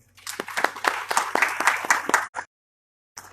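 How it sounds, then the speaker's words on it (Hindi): Audience clapping at a devotional gathering with scripture talk and chanting in Jammu, a quick spurt of individual claps rising to steady applause, then cutting off into silence with a brief sound at the end. "सब लोग तालियां मारेंगे।"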